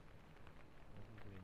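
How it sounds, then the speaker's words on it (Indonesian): Heavy rain pours onto a campsite tent in strong wind, a dense, steady hiss of drops with soft patters throughout, faint and unbroken. "Suara hujan."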